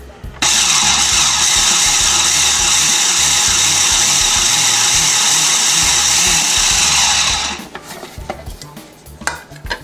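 A food processor runs in one sustained, loud whirring burst for about seven seconds while blending lemon bar ingredients, including lemon zest, then stops, followed by lighter clattering and handling noises.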